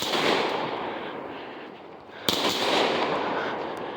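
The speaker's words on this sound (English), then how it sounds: "Fireworks for the 4th of July." Fourth of July fireworks going off outdoors as a steady, dense crackling roar with one sharp bang partway through.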